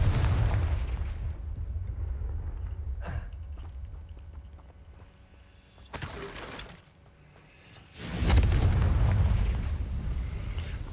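Heavy booming blasts from Confringo spells in the Hogwarts Legacy video game, with a sustained low rumble and two sharp explosive bursts, the last swelling into a loud roaring blast.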